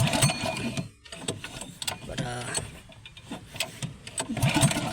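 A small boat engine being cranked to start, with uneven chugging bursts and mechanical clatter, close by, with background noise around it.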